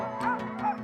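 Sled dogs in a Norwegian summer setting yip and bark eagerly, two excited bursts close by over a steady background hum, with faint voices in the mix.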